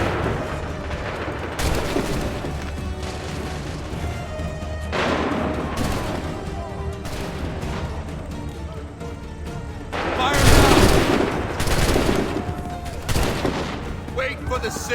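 Musket volleys and scattered gunfire in the Assassin's Creed III video game battlefield, dense overlapping shots with bursts of heavier booms, loud and continuous under shouted commands.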